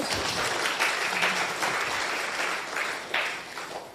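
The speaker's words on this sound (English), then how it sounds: "Another round of applause." Sustained audience applause fills a live event celebrating a sisters' blended value project, loud and steady with dense clapping that thins slightly toward the end.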